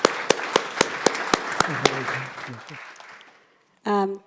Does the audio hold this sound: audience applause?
yes